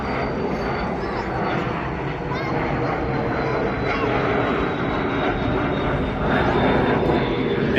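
Airplane engines at Sydney Airport as planes come in to land, a steady broad roaring rumble that swells slightly toward the end, heard at a distance and continuous throughout.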